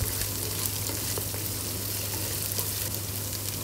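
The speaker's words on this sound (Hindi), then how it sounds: "तो इसको भी 1 आध मिनट हमने भूनना है मिर्चों के साथ।" Goat liver kaleji masala fries with chilies in a pan, a steady, close sizzle with faint crackles throughout and no voices.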